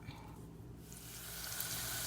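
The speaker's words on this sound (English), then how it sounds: "It's sizzling up nicely." Faint sizzling from diced onion and garlic frying in a pot; the crackling hiss grows slightly louder toward the end.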